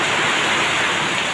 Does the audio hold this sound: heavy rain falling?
yes